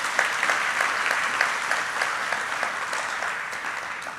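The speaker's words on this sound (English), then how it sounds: "Please give them another round of applause." Applause for the office staff at a golf and country club annual meeting, a dense, steady patter of many hands clapping that carries through the whole stretch at even loudness.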